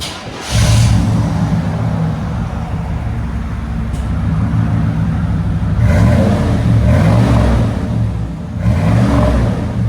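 A 1997 GMC Sierra with a 5.7L V8 and Flowmaster Super 10 exhaust revs loudly and close by: a deep, throaty rumble with several sharp rises in the revs.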